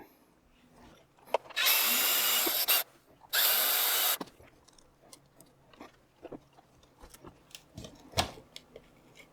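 Power screwdriver loosening skid plate screws on an Arrma Big Rock RC truck, two loud sustained whirring bursts of about a second each, followed by faint clicks and handling noises.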